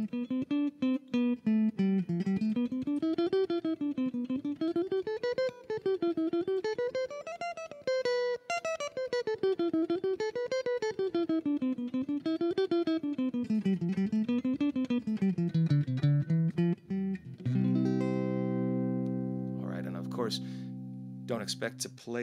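Electric lead guitar playing a fast melodic scale sequence across the strings, notes running up and down in steady, repeating waves before ending on a sustained chord, clear and close.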